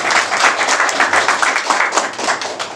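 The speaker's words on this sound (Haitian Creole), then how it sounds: "Applaudis pour nous" A wedding audience applauds in a dense, steady wash of clapping that stays loud and even throughout.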